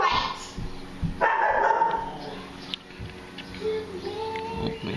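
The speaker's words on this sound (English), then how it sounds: "That's our silly dog working." A pet dog barks a few times nearby in a home while crayons are being melted down to make fire starters, the sharp barks standing out against room noise.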